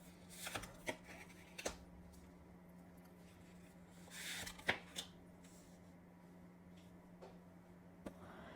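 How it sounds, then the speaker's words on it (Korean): Tarot cards shuffled and drawn for a relationship reading, with soft, quiet riffling and a few sharper card snaps scattered over a low steady hum and room noise. "그러면 두 분의 관계 안에서의 조언 카드 한번 뽑아볼게요"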